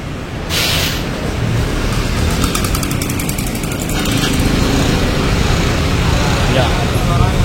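A carbureted Yamaha Mio scooter that had lost power and sounded rough is started and revved, a loud, close, continuous engine drone after a short burst at the start, holding steady at high revs.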